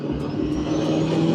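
A BMW E36 with a swapped Honda K24 engine driving, a steady low engine drone with a rising tonal whine, close and loud for a brief stretch.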